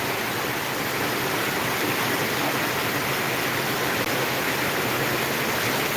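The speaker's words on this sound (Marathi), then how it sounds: "कसा पाऊस पडायला लागलेला एकदम जबरदस्त पाऊस आहे लातूरला" Heavy, steady rain pours down continuously in Latur, India, a dense broadband hiss with no breaks and no voices.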